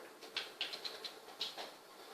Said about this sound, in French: Par contre, là, il pleut.